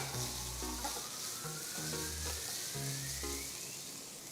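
Chopped chilli and capsicum stir-fried over a high flame, a soft, steady sizzle with brief stirring scrapes running throughout at a fairly low level.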